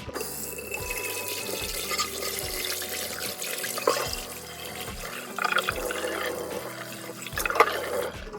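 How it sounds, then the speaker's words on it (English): Hot tap water runs steadily into a kitchen sink, rinsing a cast iron skillet, with a continuous close splashing rush and slight surges as the pan is moved under the stream. "So now all I do is rinse it out with some really hot water and then put it back on the stovetop."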